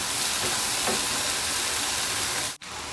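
Mushrooms brown in a hot pan with a dense, steady sizzle close by, broken by a short dip near the end.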